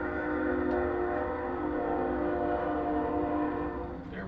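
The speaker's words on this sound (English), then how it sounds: "Wait for the train." A train horn blares loud and steady for the whole stretch as a train passes, its layered tones holding strong with only a slight fade at the end, and no voices over it.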